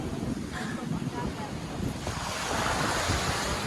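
Ocean waves at a very high tide wash in steadily on a beach by a resort, a loud, close, continuous rush of surf mixed with gusty wind buffeting the microphone, swelling slightly toward the end.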